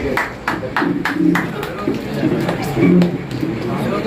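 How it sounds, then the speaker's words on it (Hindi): An audience at a felicitation ceremony for students who passed their exams breaks into clapping, sharp claps coming in a loose rhythm under a lively murmur of voices and talk. "तो जोरदार तालियां हो जाए"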